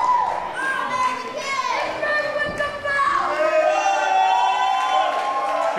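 A crowd of NECW wrestling fans cheers loudly and steadily for Slick Wagner Brown, with shrill whoops and shouting voices rising over the continuous din.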